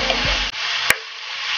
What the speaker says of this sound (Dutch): Lekker bruin bakken nu.